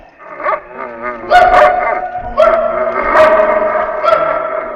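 Sled dogs bark and yip in a rapid, overlapping chorus, loud and close, with whining howls woven between the barks and no talk.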